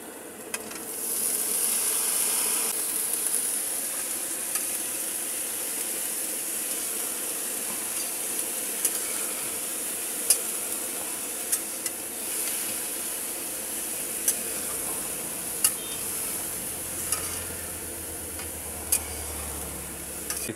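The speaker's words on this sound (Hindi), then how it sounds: "अब इसमें हम डाल रहे हैं पत्ता गोभी और बटाटा।" Cabbage and potato fry in a pan with red chilli and garlic paste, a steady close hiss and sizzle with occasional ticks and clinks of stirring.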